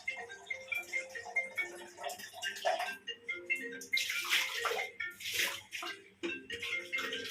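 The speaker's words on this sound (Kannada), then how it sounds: "ನೀರು ಹಾಕ್ತೊಳಿ ನೀಟಾಗಿ." Water poured and splashing across a bathroom's tiled floor before grouting, uneven gushes and splashes rising louder toward the end, with faint voices underneath.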